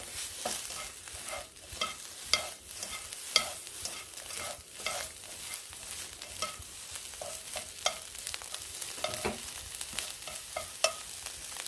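Dried pollock shreds stir-fry in oil in a pan, with a soft sizzle under busy, repeated scraping and tossing strokes from a utensil. The strokes come at an uneven rhythm throughout, and no one talks.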